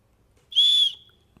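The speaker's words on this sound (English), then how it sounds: "there is a whistle here" A single sharp, shrill whistle blast from a small whistle on a wristband multitool, lasting under half a second, loud and close, with quiet surroundings before and after.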